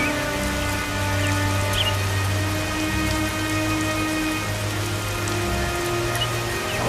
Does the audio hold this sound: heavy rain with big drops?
yes